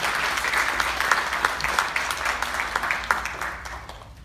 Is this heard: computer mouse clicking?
no